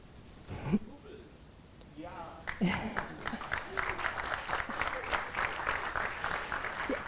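Audience applause at a cider awards ceremony livestream, a steady wash of clapping from a crowd that builds after a brief pause and carries on, with voices mixed in.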